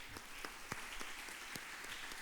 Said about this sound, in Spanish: Entonces demos un aplauso de bienvenida.